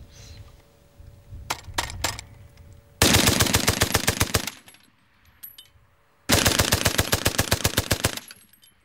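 A water-cooled machine gun at the Somme firing at 500 rounds a minute: two loud, rapid sustained bursts of evenly spaced shots, each lasting over a second, with a pause between them and earlier scattered clicks and single reports.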